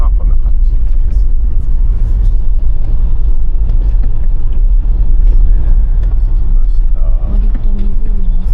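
A car drives through heavy snowfall in a blizzard in Horokanai, Hokkaido, its engine and road noise a loud, steady low rumble throughout, with faint voices near the end.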